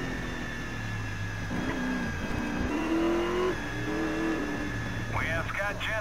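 Race car engine droning and revving in Grid Race Driver, a steady buzzing motor tone that climbs in pitch as it accelerates, with a brief tire-squeal-like whine near the end and talking over the engine noise.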